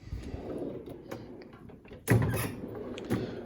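A Snap-on tool box drawer slides open in a single smooth run with a solid metal thunk about midway, close by, over faint room noise.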